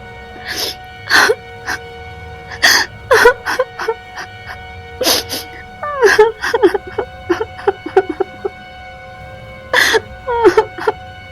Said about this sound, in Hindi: उन्हें अचानक से मेघा के रोने की आवाज आने लगी।